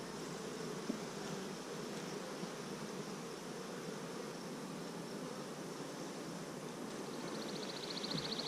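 Dense, steady buzzing of many honey bees around an opened hive during an inspection, a close, continuous drone with no talk.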